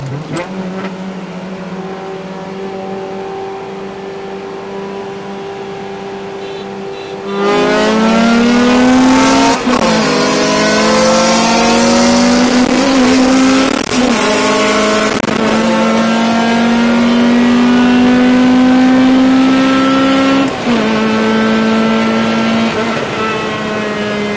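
A car pulls up at a Kuruma car meet, its engine idling steadily, then revving loudly and repeatedly close by, throttle rising and falling.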